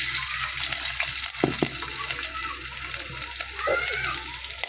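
Shrimp fry in a pan with a steady hiss and sizzle, close and fairly loud, broken by a few clinks and scrapes from stirring.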